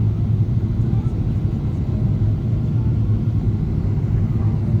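Steady deep rumble inside an airliner cabin as the plane comes in to land, a constant loud engine and air roar with no breaks.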